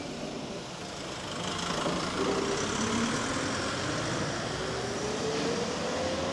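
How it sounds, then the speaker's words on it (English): A truck passing on a late-night street in Akihabara, Tokyo, its engine a loud, steady rumble that swells as it nears and holds, with a faint rising whine, and no talking. "I'll let this truck pass."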